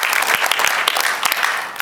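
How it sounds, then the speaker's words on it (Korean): Applause from a seated audience at an inauguration ceremony for a press association's new president, dense steady clapping filling the hall for a couple of seconds without speech. "박수로 마무리하겠습니다."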